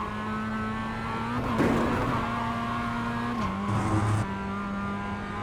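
A Mazda MX5 on a lap of Winton raceway, its engine humming steadily up close, with a short rush of tyre noise and a brief shift in engine pitch near the end.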